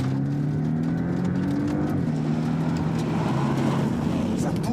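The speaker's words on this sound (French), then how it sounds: "Par contre, en Sport Plus, là, l'échappement, c'est autre chose." A Techart-tuned Porsche in Sport Plus mode, its exhaust holding a steady, loud, deep drone with a slightly rising engine tone, close and continuous, with no talking.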